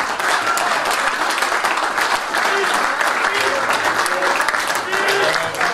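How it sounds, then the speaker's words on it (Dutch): Sustained, dense applause fills the room at an award ceremony as first prize is presented, a loud, steady crowd clapping with no pause. "Applaus."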